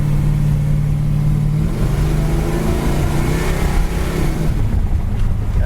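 A 1970 Plymouth Satellite Road Runner with a B&M slap shifter pulls away in second gear, its loud engine roaring close by as the pitch climbs and the revs rise steadily for several seconds, with no voices.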